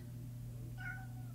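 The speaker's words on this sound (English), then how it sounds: "that's my cat in the background" House cat lets out a single short meow in the background, faint and somewhat distant, above a steady low hum, with no talking.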